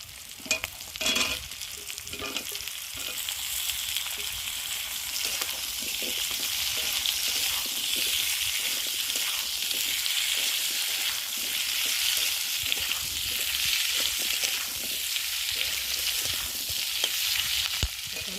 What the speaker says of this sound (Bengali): এখন আমি কেটে রাখা আলুগুলোকে দিয়ে ভালো করে ভেজে নেব